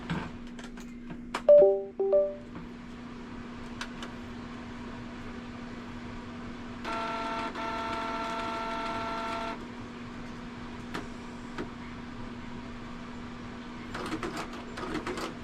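A Canon G1010 inkjet printer powers on and initializes with a soft steady hum, a few short beeps, clicks and a whirring motor run in the middle. Quieter mechanical ticks follow.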